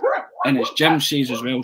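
A pet dog barks and yips indoors in a home during a football podcast, several sharp close barks in quick succession mixed with someone talking.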